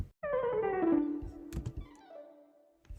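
A plucked, descending synth tone sweeps downward and fades, followed by scattered soft clicks and echoing delayed repeats trailing off quietly.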